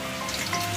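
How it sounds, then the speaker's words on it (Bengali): Potatoes sizzling in hot mustard oil in a wok, a short, close and steady crackling fry. "তেলটা আগে আলুটা ভেজে নেব।"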